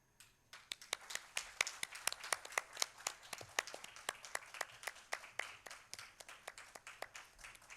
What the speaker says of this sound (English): Let's give him a round of applause as he comes forward for the felicitation.